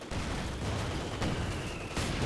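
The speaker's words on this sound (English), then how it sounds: "mortar firing on there" Mortar fire in Company of Heroes 2, a World War II strategy game: dense, booming blasts and explosions in a sustained battle din, with a couple of sharper reports standing out, and no talking.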